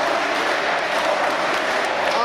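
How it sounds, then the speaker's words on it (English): Fans at an IWC Super Indy Tournament wrestling show roar and cheer after a flip senton off the top rope, a steady wash of crowd noise with some clapping. "And listen to the fans go crazy."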